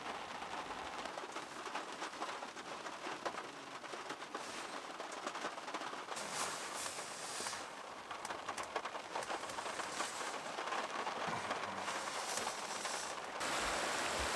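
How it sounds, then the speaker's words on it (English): Steady rain falling in Yosemite Valley in spring, a dense continuous patter and hiss of drops on surfaces that stays loud and even throughout, with no voices. "Eventually, the rain does subside a bit"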